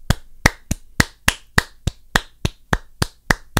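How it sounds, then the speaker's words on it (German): A single person claps slowly and evenly, roughly a dozen sharp, crisp claps in a steady rhythm, close and alone with no voices. "Applaus, genau."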